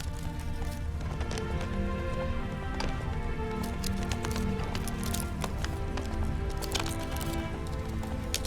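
Rapid, steady hoofbeats of a galloping horse in The Witcher 3: Wild Hunt drum continuously at close range, thick and layered, with no talking.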